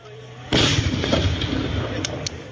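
A sudden loud blast from an illegal "Goodbye Philippines" firecracker booms after a short quiet lead-in, followed by a rolling rumble and a couple of faint sharp cracks.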